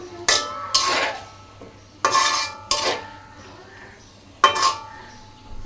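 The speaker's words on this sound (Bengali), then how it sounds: "আলুটাকে আগে ভালো করে মশলার সাথে কষায় নিব" Boiled potatoes being stirred with spices in a pan, five distinct loud scraping strokes of a metal spatula against the pan at irregular intervals, close up, with quiet pauses between and no talking.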